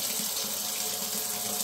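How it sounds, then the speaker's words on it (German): Water runs steadily from a kitchen faucet with a pull-out spray head that has low pressure and keeps dripping after being shut off, a continuous close hiss with no voices. "Ich mache das Wasser auf."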